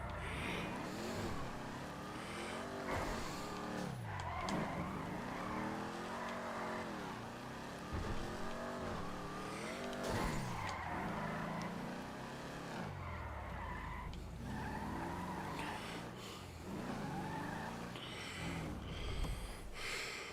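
Racing car in the Redline RP driving game, engine rising and falling through continuous revs with tire skids and squeals, loud and steady throughout the run with no break.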